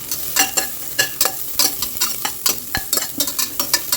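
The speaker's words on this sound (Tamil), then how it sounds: "ஆனியனை நல்லா ஃப்ரை பண்ணி எடுத்தாச்சு" Onions frying in ghee in a cooker crackle and sizzle loudly up close, with a rhythmic series of sharp scraping strokes from stirring running throughout.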